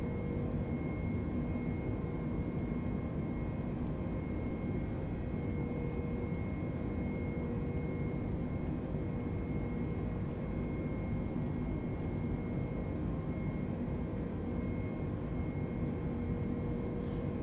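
Steady, unbroken drone of an aircraft engine in Microsoft Flight Simulator 2020, heard in a flight from Manila to Hong Kong, holding a constant pitch with faint tonal hum for the whole stretch and no one talking.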